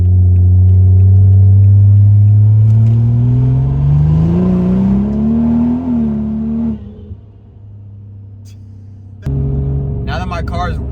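A BMW 340i with a big turbo and homemade exhaust dump revs loudly up and down near the microphone, the engine note rising and falling, then dropping off and returning with crackles and pops.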